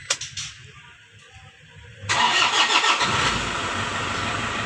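A Toyota Fortuner with sluggish, heavy acceleration and black exhaust smoke cranks briefly, catches and settles into a steady idle. The engine runs close and loud, with a few faint knocks before it fires.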